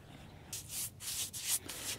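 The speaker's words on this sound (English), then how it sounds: "I'm using these masonry brushes, and I find it does better with anchor seal than a regular cheap paintbrush" A masonry brush spreads Anchorseal sealant over wood in quick repeated wet strokes, each a soft scrubbing swish, close and fairly quiet.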